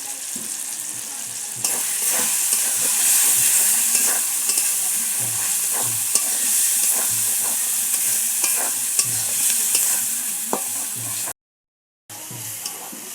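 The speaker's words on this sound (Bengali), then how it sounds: "দেখুন বন্ধুরা মশলা কষানো হয়ে গেছে" Spice masala with turmeric and chili powder is sautéed in a pan for chicken bhuna, a continuous close sizzle with regular scraping stirs and a short silent gap near the end.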